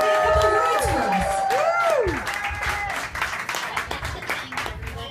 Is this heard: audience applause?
yes